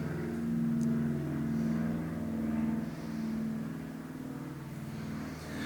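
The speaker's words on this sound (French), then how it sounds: "Un avion." An airplane passes overhead outdoors, a low, steady engine rumble that swells and fades gently over several seconds without any talking.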